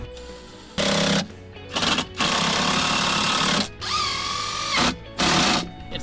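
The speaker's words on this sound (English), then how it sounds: "I'm going to use these same 3-inch screws and just put 3 of them across the middle here into each of the supports down below." Power drill driving 3-inch screws into wooden supports while installing a Little Free Library post, several loud sustained whirring bursts separated by short pauses, with a rising pitch near the end of one run.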